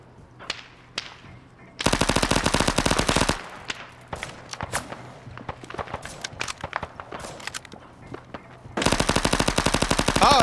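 Submachine gun fire in a first-person shooter game: two long, loud, rapid automatic bursts separated by scattered lighter shots and footsteps-like clicks, the second burst ending the clip.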